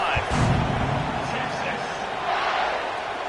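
A stadium crowd at a college football game keeps up a broad, sustained roar of cheering, loud and continuous, swelling slightly at the start.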